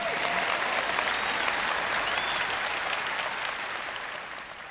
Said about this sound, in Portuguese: Eu sei que estão mais animados do que esse aplauso.